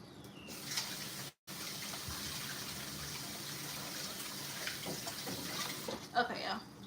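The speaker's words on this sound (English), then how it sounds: "I gotta wash these hands again" Tap water runs steadily while hands are washed at a kitchen sink during home cooking prep, a continuous gushing wash with a brief break and a few small splashes near the end.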